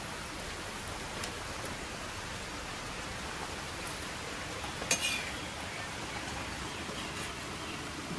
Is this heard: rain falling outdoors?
yes